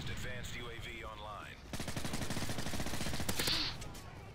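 A rapid burst of MP7 gunfire in Call of Duty: Modern Warfare 3 rattles off in a fast steady stream, preceded by a moment of muffled voices and sound effects.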